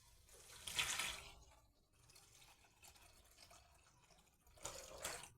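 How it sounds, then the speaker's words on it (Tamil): Water, 400 ml of it, poured into a pan of sautéed ingredients while cooking egg vermicelli biryani, giving a soft splashing trickle in two bursts with a quieter bubbling stretch between, near and without talk. "இப்போ நம்ம வந்து 400 ml தண்ணி ஊற்றிக்கலாம்."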